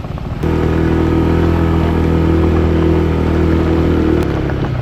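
A motorbike engine starts up loud and close, then holds a steady rough drone while climbing a steep rocky hill in Phuket, Thailand, before cutting off near the end.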